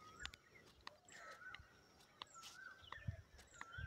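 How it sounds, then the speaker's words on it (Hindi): Morning birdsong in a village field beside mango trees, scattered chirps and short calls at a moderate distance, faint and quiet against soft outdoor ambience. "चिड़ियों का चहकना एकदम खूबसूरत लग रहा है।"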